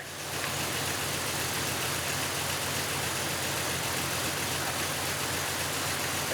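A car engine idles steadily at around 900 RPM, a constant dense hum close to the microphone with no change in pitch or rhythm throughout.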